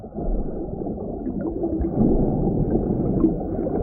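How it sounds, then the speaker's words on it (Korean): A whale about 15 metres long calls in the sea, low gurgling and moaning tones rising and falling over a constant underwater rumble for a few seconds. "몸길이 약 15m의 고래가 번식하기 위해 이 바다를 찾습니다"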